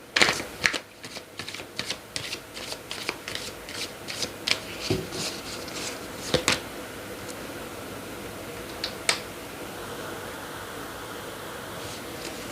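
Tarot cards shuffled and handled during a career reading, giving a run of crisp riffling clicks and soft rubbing in the first half, then a few scattered taps and slides before a quiet stretch; no talk.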